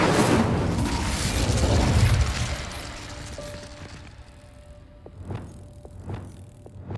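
Incendio fire spell cast in Hogwarts Legacy: a loud whooshing fiery burst dominates the first two seconds, then fades into quieter magical tones and a few soft thumps.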